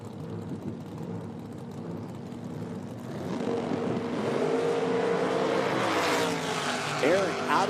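Top Sportsman drag race cars at the IHRA Outlaw Nitro Series Spring Nationals, National Trail Raceway, a distant engine roar building and holding loud through the second half with rising and falling tones.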